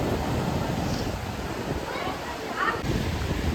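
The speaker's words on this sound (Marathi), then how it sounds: "किती मोठ्या मोठ्या लाटा येतात." Large sea waves break on the shore outside Kunkeshwar temple on the Konkan coast, a steady, loud roar of surf mixed with wind rushing over the microphone.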